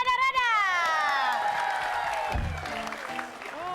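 A studio audience on an Indonesian comedy show applauds and cheers a performing group. Steady clapping runs under sweeping, whistle-like musical tones, and a voice cuts in near the end.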